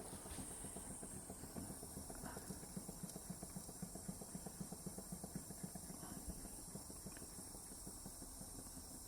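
A Wilesco D455 model steam engine runs slowly, making soft, evenly spaced chuffs over a faint continuous hiss, quiet and alone.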